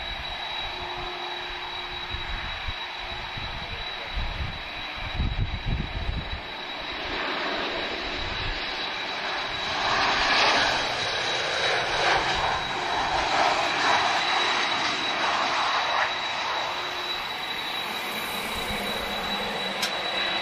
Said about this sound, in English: let's watch the TAP Express / Bulgaria Air hybrid livery. First time I've ever seen it in flight.